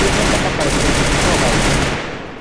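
Rapid bursts of automatic gunfire from a squad-based shooter game crackle loudly and densely for about two seconds, then taper off, with faint talk beneath.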